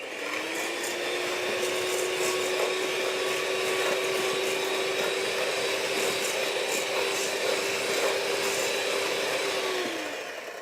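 Electric whisk beating egg whites in a home kitchen, a steady high motor whine holding for about ten seconds at close range and cutting off at the end, with no talk over it.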